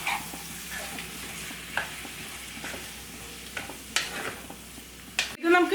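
Kerala-style chicken stew is stirred in a pan on high flame, giving faint scraping strokes over a low sizzle, with one louder clatter near the end. The sound is close, with no speech.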